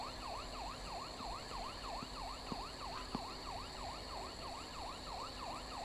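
In the video game Car Parking, a wailing police-style siren sweeps up and down in a rapid, steady cycle over a low engine rumble, with a few faint clicks.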